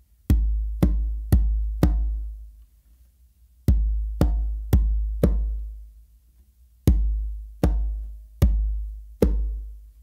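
A single conga struck in repeated groups of four, deep booming bass and open tones with ringing decay, separated by short pauses, close and alone.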